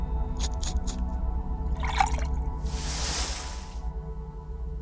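Bottle being filled with water in a hidden-object video game: a few soft drips and trickles give way to a brief, hissing gush of pouring liquid over a low background hum.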